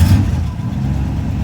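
A 1964 Buick LeSabre V8 with a carburetor needing adjustment runs loud and close, a steady low rumble that briefly rises at the start as the throttle is held open.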